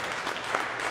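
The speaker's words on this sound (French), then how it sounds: "nous applaudissons pour cet anniversaire de mariage de nos bénévoles" A congregation at Sunday Mass claps for a couple's wedding anniversary, a brief, fairly soft patter of hands heard at some distance in a church.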